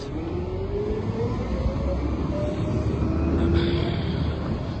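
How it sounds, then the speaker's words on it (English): A garbage truck collects trash on a street nearby, its engine rumbling continuously with a rising mechanical whine and hiss, loud and steady throughout. "some garbage getting taken out here"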